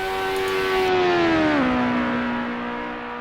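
Lotus Exos 125 race car at Imola in a racing video game, its engine note holding a loud steady whine that drops in pitch as it passes by, then fades slightly.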